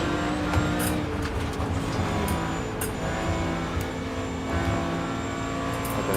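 A GT3 race car roars past in a sim racing game at the Nürburgring 24-hour race, with a loud continuous engine drone, shifting revs and brief sharp tyre or kerb noises over a busy mechanical bed.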